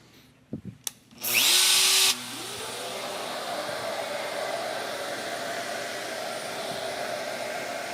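A CNC router spindle with a narrow 8mm shank bit spins up with a couple of clicks, gives a loud high whine, then settles into a steady cutting drone under lower noise, close.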